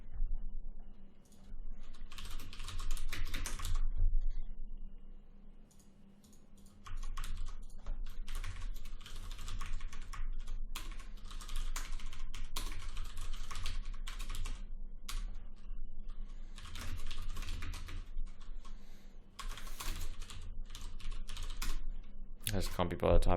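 Fast, steady typing on a computer keyboard while writing game code during a 48-hour game jam, continuous clicking clatter close by with a short pause, over a low background hum and some quiet talk.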